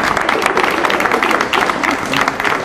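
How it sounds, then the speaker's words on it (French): A school crowd applauds students at the unveiling of a mural at a collège in Bessan, a dense, steady patter of clapping close by that holds for a few seconds, with voices mixed in. "allez, on peut les applaudir"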